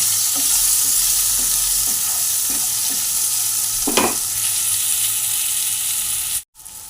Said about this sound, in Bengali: ভালো করে একটু পেঁয়াজটাকে ব্রাউন কালারের মতন ভেজে নেবো